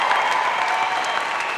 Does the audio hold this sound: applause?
yes